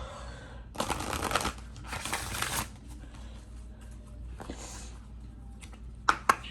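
Tarot cards riffled and shuffled in a few bursts of crisp, close rustling, with quieter handling between bursts and a couple of sharp taps at the end.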